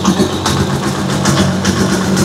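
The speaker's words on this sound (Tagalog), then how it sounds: "Kahit pakinggan nyo yung makina, yan, tamang minor lang po yan" A Rusi Chariot 175 tuktuk idles up close, its small engine running with a steady low throb and even rhythm, alone with no talking.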